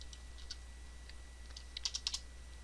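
Password being typed on a computer keyboard: a quiet run of light, scattered key clicks that ends in a tight burst of several sharper taps, over a faint steady hum.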